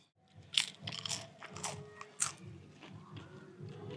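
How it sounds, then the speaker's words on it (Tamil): Crunchy bites into sun-dried buttermilk chili (mor milagai), a few sharp crisp cracks followed by softer chewing crunches, close and fairly quiet, with no talk over them. "கடிக்கும் போது மொறுன்னு சவுண்ட் வருதுல"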